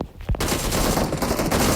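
Rapid bursts of gunfire from the video game PUBG, loud and dense, a sustained automatic volley filling nearly two seconds after a brief quieter lead-in.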